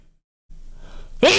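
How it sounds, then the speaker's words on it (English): A single loud, sharp sneeze bursts out near the microphone after a brief silence and low background murmur, during a casual tech livestream. "Oh, I need to sneeze."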